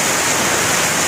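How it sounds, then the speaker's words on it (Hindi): Neer Waterfall in Rishikesh pours down in a loud, close, unbroken rush of white water that fills the whole scene. "अगर ऐसे पीछे आपके झरने बहते हो"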